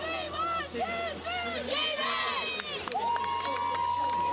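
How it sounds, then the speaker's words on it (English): A large indoor arena crowd roars and cheers steadily at a wheelchair basketball game, with shouts and whistles rising above the din and a long sustained whistle near the end. "a noisy and loud crowd at the North Greenwich Arena"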